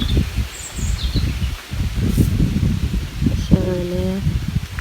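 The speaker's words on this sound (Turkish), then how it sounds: "Bir de bayağı rüzgar var burada." Gusty wind roars and rustles foliage in a continuous low rumble, with a faint bird call and brief chirps in the background.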